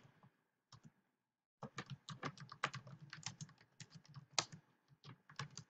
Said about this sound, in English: Once the window is open, let's start typing our code.